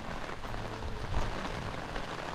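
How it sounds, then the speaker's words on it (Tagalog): Rain falling steadily outdoors, a soft continuous patter and hiss with low rumbling undertones, fairly even throughout. "Yan na, ulan na."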